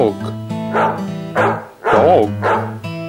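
A dog barks a few times in short, pitched bursts, fairly close, with brief pauses between barks.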